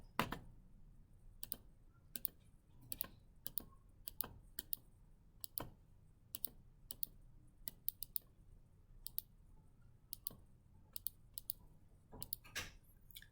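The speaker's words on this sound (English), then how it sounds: "I'm going to take that stuff on the inside and type that into my calculator." Keys tapped one at a time on a calculator keypad, a series of sharp, close clicks in an irregular rhythm with short pauses, heard alone over faint room noise.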